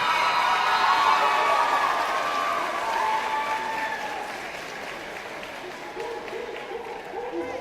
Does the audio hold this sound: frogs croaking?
no